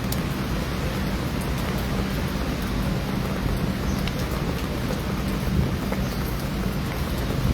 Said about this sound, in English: rain is just running right off the umbrella onto my leg